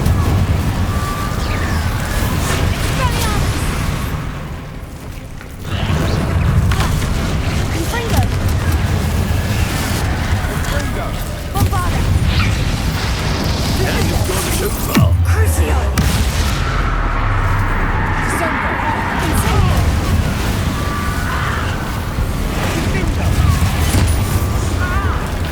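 Magic-spell fire and blast effects from Hogwarts Legacy combat roar in a dense, loud barrage of booms and crashes, with a sharp impact near the middle, under speech-like game voices throughout.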